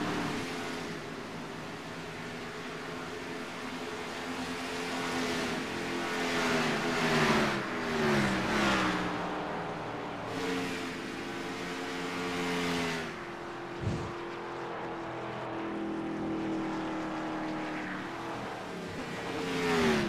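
A race car in the iRacing video game rolls down pit road, its engine droning and shifting pitch through gear changes and revs, a continuous mid-level mechanical hum with a brief sharp knock near the end.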